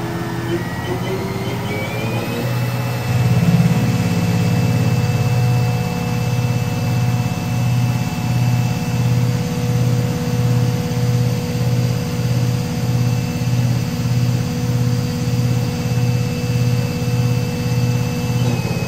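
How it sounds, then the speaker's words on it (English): A 2005 Haas VF3SSYT five-axis CNC mill spins up its spindle, a rising whine settling into a steady tone over a low, pulsing machine hum that stays loud and constant throughout. "Go ahead and fire up the spindle."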